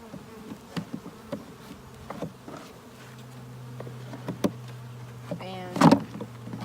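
Honey bees buzzing close by while bee packages are installed into hives with drawn comb, a low steady hum with individual bees passing near and a few light knocks and clicks from handling.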